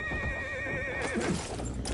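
A horse neighs in Battlefield 1 on PS5, a loud wavering whinny that trails off into gunfire, hoofbeats and dense battlefield noise.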